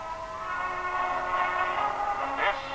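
A train rolls past with a sustained, multi-tone whistle sounding throughout, swelling louder toward the end.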